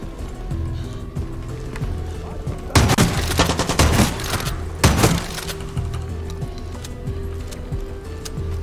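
An automatic gun turret in the Far Cry 6 video game fires two rapid bursts, one of about a second and a shorter one after it, loud and sharp over a steady game background hum.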